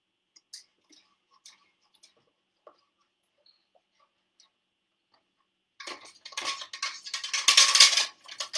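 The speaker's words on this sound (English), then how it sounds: "I am going to add this masa mix a little at a time, and then I need to stir and stir and stir." Masa mix being stirred into champurrado in a cooking pot: a few faint isolated clicks at first, then from about six seconds a loud, continuous scraping and clinking of a utensil against the pot with no voices.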